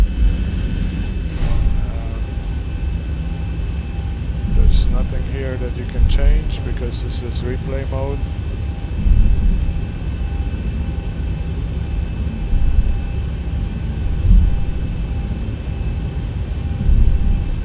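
Simulated airliner in a flight simulator cruising clean, with flaps up and spoilers down, makes a steady, loud engine drone and airflow hiss that runs throughout, while someone talks over it.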